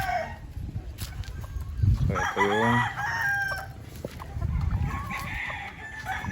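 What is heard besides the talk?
chickens clucking and rooster crowing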